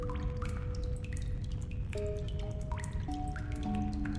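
Water drips from pipes in The Darkside Detective: Backside of the Moon video game demo, a steady run of close, watery plinks over a dense low rumble, with sustained tonal notes weaving through and no talk.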